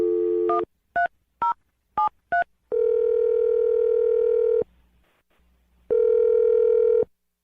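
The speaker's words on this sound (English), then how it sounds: "I'm going to dial the phone number right now" A telephone dials out on a radio call-in line: a quick run of touch-tone beeps, then a long ringback tone, a short silence and a second ring, all clear and close with no voices.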